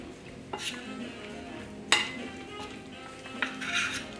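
A spoon stirs orange chicken sauce with added cornstarch in a bowl, giving soft scraping and occasional sharp clinks against the side. The sounds are close and moderately loud, with a faint hum of background talk.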